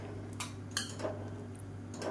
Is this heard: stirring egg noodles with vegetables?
yes